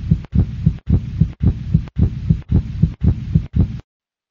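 Heartbeat sound effect for an animated heart: a steady, loud lub-dub pulse repeating about seven times at a regular rhythm, alone with no voices, ending abruptly in silence.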